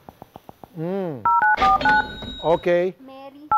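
A series of telephone dialing tones: short keypad DTMF beeps at the start, then steady paired dial tones in a rhythmic sequence, loud and close, with a voice speaking between and over them.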